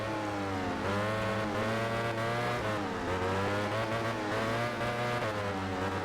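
A Power Electronics racing motorcycle in MotoGP 13 screams at high revs throughout, its engine pitch rising and dropping sharply through gear changes and corners as the loud, steady whine continues without a break.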